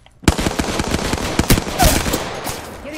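Rapid bursts of gunfire from an Apex Legends match, with sharp shots cracking in irregular volleys and close-range impacts, loud and busy for the whole stretch after a brief silent start.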